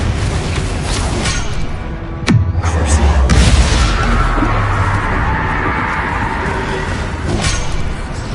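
A Confringo blast spell explodes in Hogwarts Legacy, a sudden deep boom with a dropping low rumble that follows a whooshing build. Dense combat noise continues around it, loud and close.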